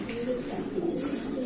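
A pair of Spanish Gorguero Granadino pigeons coo in low, steady, overlapping tones that run without a break from start to finish, fairly close and moderately loud, with a faint background murmur.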